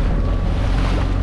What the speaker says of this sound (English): It's quite choppy around this side of the island.